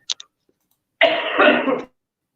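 A woman clears her throat and gives a short cough, two quick bursts followed after a pause by a longer, raspy throat-clearing rumble, close and loud with no talk.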